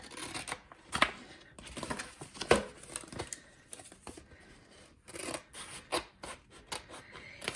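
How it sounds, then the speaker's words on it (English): Scissors cut through faux leather backed with transfer tape for DIY earrings, giving a series of close, crisp snipping and rasping strokes in irregular bursts, fairly quiet, with no talking. "And I know I'm cutting a straight line."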